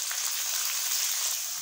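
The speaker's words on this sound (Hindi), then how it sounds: "अब हम लोगों ने इसके अंदर हरी मिर्ची और टमाटर ऐड कर दूँगी मैं।" Green chillies and tomatoes hit hot oil with fried garlic and ginger paste, giving a dense, even, close sizzle that hisses steadily without pause.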